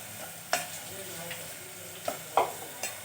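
Radish pieces stirred in a frying pan give a faint, steady sizzle, with a few sharp scraping knocks from the spatula spaced through the passage and no talking.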